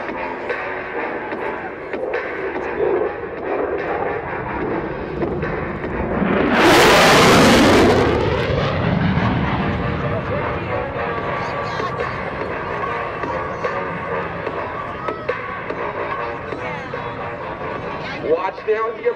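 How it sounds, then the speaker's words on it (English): An F-16CJ Fighting Falcon makes a high-speed pass at an Air National Guard airshow, its roar swelling suddenly into a loud, broad blast that then trails off into a long rumble, with crowd noise and a voice over a loudspeaker throughout. "He's going to unleash the sound of freedom as he bursts the sound barrier across his show center at 950 feet per second."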